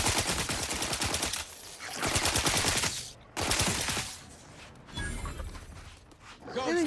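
Rapid gunfire in The Outer Worlds 2, fast rattling bursts of shots that come and go over several seconds, loud and close, with talking voices and game effects in between.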